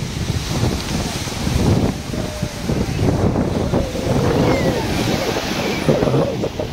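Sea waves wash onto a secluded beach at the foot of a mountain in Mirissa, Sri Lanka, a steady broadband surf roar with gusty wind buffeting the microphone throughout.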